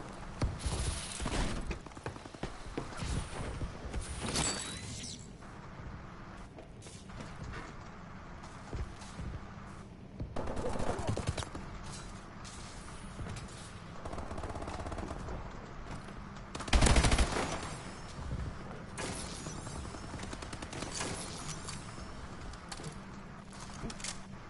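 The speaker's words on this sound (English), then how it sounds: "When in doubt, use the AK." AK rifle fire in a multiplayer shooter video game, heard as scattered short automatic bursts and single shots spread over the match, fairly quiet, with game sound effects between and a sharp louder burst partway through.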